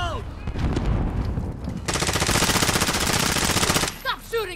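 Automatic gunfire in Call of Duty: Modern Warfare, a dense, sustained burst of rapid shots lasting about two seconds, preceded by mixed game noise and chatter and followed by brief scattered effects.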